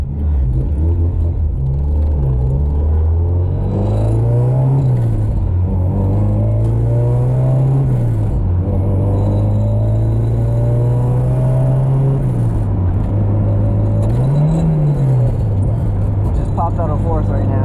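A Honda Civic with an H2B engine drives along with a steady low engine drone. It revs up and down in several swells, and someone talks over it.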